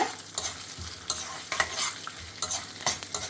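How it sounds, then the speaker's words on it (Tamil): Dried red chilies and curry leaves roasting in a pan for Tamil Brahmin kalyana sambar, with intermittent stirring scrapes and soft crackling bursts, close and moderately loud, no voices. "ஒரு 7-8 வத்த மிளகா போட்டிருக்கேன், கருவேப்பிலை. இது எல்லாத்தையும் நல்லா செவக்கிற மாதிரி வறுத்துக்கணும்."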